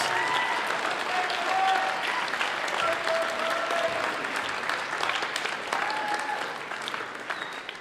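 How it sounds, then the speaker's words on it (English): Sustained applause from a large high school band spring concert audience for the 2023 senior class, steady and loud for several seconds before starting to fade, with faint voices mixed in. "Let's give one more huge round of applause to the 2023 senior"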